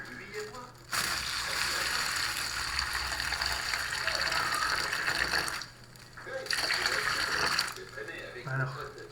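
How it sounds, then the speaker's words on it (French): Water poured into a plastic bag makes a broad, splashy rush in two spells, a long pour and then a shorter one after a brief pause, fairly close and moderately loud. "Et ensuite vous allez verser l'eau."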